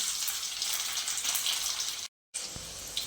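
Cumin seeds fry in hot oil in a pan for a cabbage dish, producing a steady, bright hiss of sizzling that runs without a break except for one short silent gap, close and moderately quiet.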